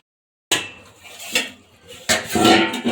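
A lid set down over a pot of cabbage, fish head and potatoes, with a sudden close metallic clank followed by a few scraping rattles and a louder settling clatter.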